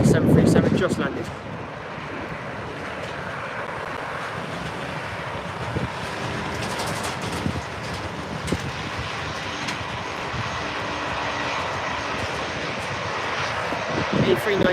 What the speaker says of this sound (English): A319, EasyJet on its way out now.